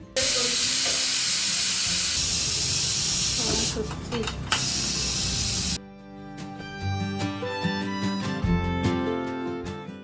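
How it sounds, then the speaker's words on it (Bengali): A pressure cooker holding mutton lets out a loud, sustained steam hiss for several seconds before it cuts off abruptly, followed by quieter kitchen clatter. "প্রেশার কুকারে এবার সিটি দেওয়ার পালা"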